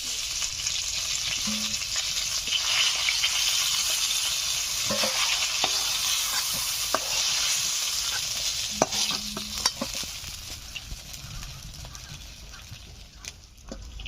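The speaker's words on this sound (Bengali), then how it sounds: "মাছগুলো ভেজে নেওয়া হয়ে গেছে, এখন আমি তুলে নিচ্ছি।" Rui fish fry in hot oil in a village kitchen, giving a steady loud sizzle throughout, with occasional scrapes and clinks as pieces are lifted out of the pan.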